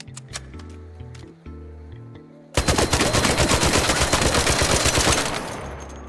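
Standard Rattler gun from Arc Raiders firing a sustained burst of rapid, loud, evenly spaced shots lasting a few seconds, after a short stretch of quieter game music and effects.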